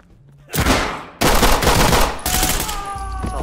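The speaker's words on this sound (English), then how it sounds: "That's a lot of gunshots." Gunfire in the tactical shooter video game Ready or Not, a loud close burst of rapid shots followed by more bursts and ringing echoes, with no voices.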